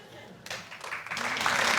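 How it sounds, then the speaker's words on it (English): Studio audience on a comedy panel show breaks into applause, building from scattered claps into fuller, steady clapping that grows louder over a couple of seconds. "What are they clapping?"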